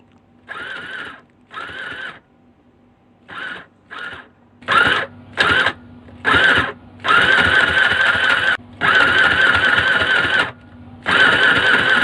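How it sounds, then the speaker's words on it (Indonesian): A mini portable sewing machine running in repeated bursts, short stitching runs at first and then longer sustained whirring passes, close and fairly loud with a steady mechanical buzz and no talking. "Kalau dari suaranya sih sepertinya cukup bertenaga ya mesinnya."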